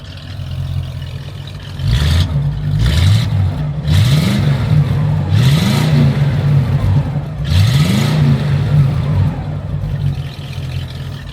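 A Cadillac's engine revs through its exhaust in about four rising blips, each swelling and falling back to a deep idle. It sounds loud and close, from a comparison of an Eldorado and a CTS-V.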